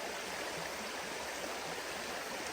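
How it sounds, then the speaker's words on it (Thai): Steady rushing of running water while someone bathes, a continuous even hiss with no break, heard alone at moderate distance. "เดี๋ยวเขาอาบน้ำก่อน"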